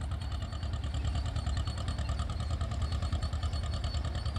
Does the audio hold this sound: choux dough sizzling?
no